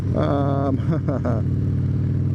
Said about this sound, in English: Gabe has thrown the Cycle Shack exhaust onto this, and I'm sure you can hear that.